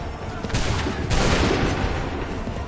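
Musket volleys in the Assassin's Creed 3 video game, dense overlapping gunfire bursting in around the half-second mark and swelling into a sustained loud rattle of shots that runs to the end.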